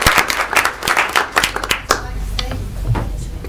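Audience applause at a school board meeting for young students from Howard School, a dense burst of many hands clapping that stays steady and fairly loud for several seconds before tapering slightly.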